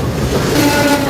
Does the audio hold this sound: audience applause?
no